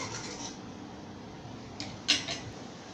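A spoon stirs okra tamarind curry in a pot just after asafoetida powder goes in, giving a few soft metallic scrapes and one sharper clink near the end over a quiet background hiss.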